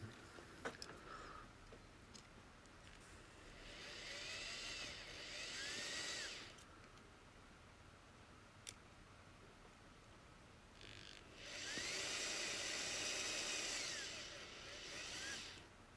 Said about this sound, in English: So let's drill the jib out.